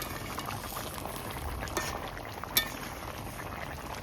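Fish curry of tilapia simmering in a pan near the end of cooking, a steady soft bubbling hiss throughout with a single brief clink partway through, no voices.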